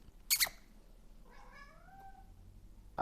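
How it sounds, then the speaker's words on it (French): A cat meows twice: a short sharp cry near the start, then a longer, drawn-out meow a moment later, both fairly close in a quiet room. "Il a fait miaou miaou."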